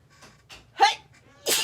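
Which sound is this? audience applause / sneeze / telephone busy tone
sneeze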